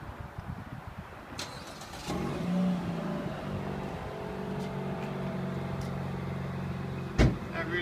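A Dodge Dart engine cranks and catches, then settles into a steady idle close by, with a sharp thump and a brief rev near the end.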